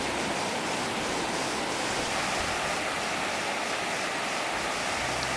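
Water crashes steadily down the tiers of Sap Sombun waterfall in Nakhon Sawan, a dense, unbroken roar heard up close with no breaks or voices.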